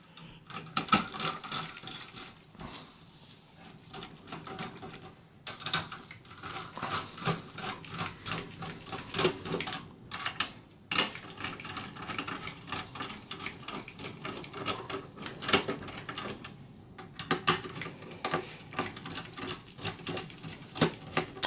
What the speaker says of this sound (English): you can install back the screws here.